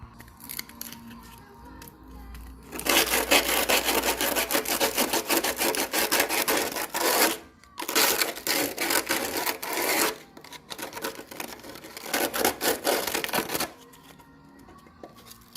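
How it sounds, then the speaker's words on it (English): Hand rubbing down a surface on a Golf Mk1 produces rough, dense scraping strokes in long loud bursts with brief pauses between them, close and continuous for most of the stretch, with quieter moments at the start and end. "Just have to rub all of this down."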